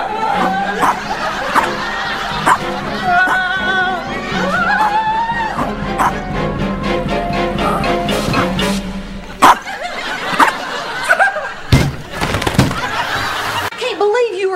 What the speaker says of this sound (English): Can't believe you were afraid of that little bitty dog.